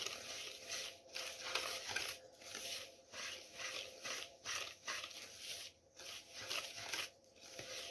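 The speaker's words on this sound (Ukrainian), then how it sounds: "І все це я перемішую." A spoon stirs lenten cake batter in a bowl with a steady, rhythmic scraping and sloshing, about one stroke per second, soft and close, with no talking.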